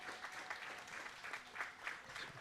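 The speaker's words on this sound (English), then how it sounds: "applause in the warm room for the teams from sheet A coming off the ice" Faint, brief applause in the warm room of a curling club during a junior bonspiel, greeting teams coming off the ice; scattered clapping rises and falls in soft bursts.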